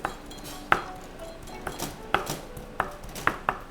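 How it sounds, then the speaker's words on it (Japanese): Shrimp is chopped finely with a deba knife on a cutting board, sharp tapping knocks landing at uneven intervals, close and crisp over a quiet background. "これを細かく刻んでからこう出刃なんかでこうやってトントン叩くと"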